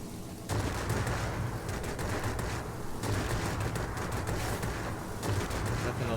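Yak-9U fighter plane guns in World of Warplanes rattle in sustained rapid bursts, loud and continuous, with brief pauses between volleys over a steady engine drone.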